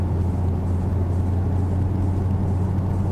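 A Hellcat 6.4-litre 392 V8 cruising at part throttle and very slow speed gives a steady, low rumbling drone, continuous and even throughout, with no talk over it.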